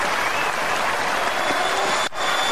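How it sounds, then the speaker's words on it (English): Cricket crowd at a match applauding and cheering as a young batsman goes for a big hit, a steady dense roar of clapping and voices that dips briefly near the end. "Crowd getting behind young Hamish Bennett here"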